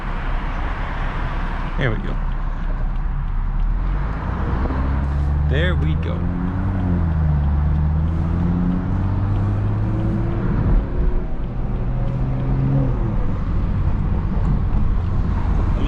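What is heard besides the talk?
500whp B58-engined car cruising at low speed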